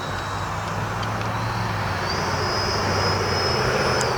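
An FMS F-86 80mm electric ducted-fan RC jet comes in to land with its flaps down, giving a steady rushing whine with a faint high tone rising partway through, heard alone outdoors.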